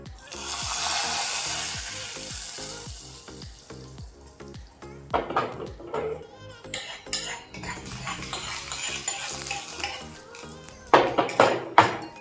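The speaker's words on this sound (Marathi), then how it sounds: "आता ही जी काही फोडणी केली होती ती घालून घेऊया" Tempering (tadka) is poured into a pot of dal makhani and hisses in a loud, sizzling burst for a few seconds. Spoon clinks and stirring clatter against the pot follow, with no talking.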